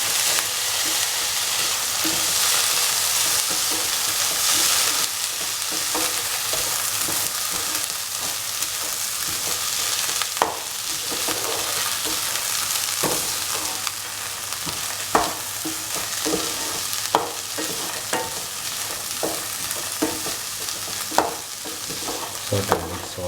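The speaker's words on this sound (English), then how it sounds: "Salt and mix all the ingredients with the masala, the green chilli, tomatoes and spices and other mixture." Black-eyed bean masala with salt, green chilli, tomatoes and spices gets mixed in a hot pan, a steady loud sizzle carrying intermittent scraping strokes of a spoon throughout, close and without talk.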